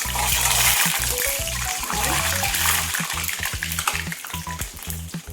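Karasev dough fries in hot oil over a medium flame, giving a loud, steady bubbling sizzle close up throughout, with a few stirring clinks and no voices.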